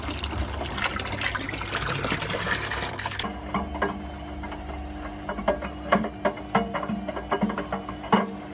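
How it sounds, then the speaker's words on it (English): A washing machine fills with water for a rinse while agitating, giving a dense rushing trickle that cuts off abruptly and gives way to a humming motor with intermittent knocks and sloshes. "It's still filling there, it's agitating at the same time."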